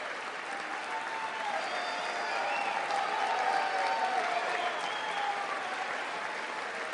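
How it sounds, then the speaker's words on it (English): A State of the Union audience applauds at length, with steady, dense clapping and a murmur of crowd noise that holds at a moderate distance throughout. "why are people cheering so much?"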